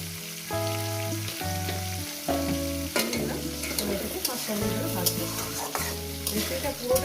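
Potatoes and radish frying in a pan for a Bengali chorchori give a loud, continuous sizzle with scraping stirs, and a tonal musical backing runs underneath.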